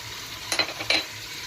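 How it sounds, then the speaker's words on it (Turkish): Tomato and pepper paste frying in a pan gets stirred, two quick scraping swishes over a soft, steady sizzle, close and fairly quiet. "Bir güzel karıştıralım."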